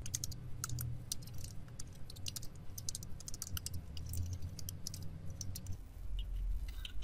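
Rapid, steady clatter of a computer keyboard being typed on at close range while code is written, with irregular key clicks and no talking.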